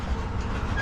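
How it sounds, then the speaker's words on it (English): A freight train rolls past a road crossing in Calgary, a steady low rumble of rail cars at moderate distance, continuous and without voices. "Oh, looks like the train's moving out."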